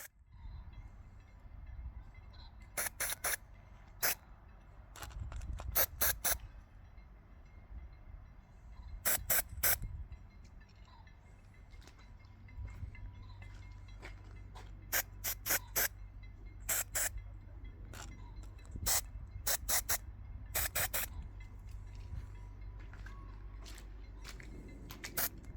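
Anti-rust coating sprayed onto exposed steel reinforcement during DIY house building: a series of short, sharp hissing spray bursts, some single and some in quick clusters, over a low steady background rumble.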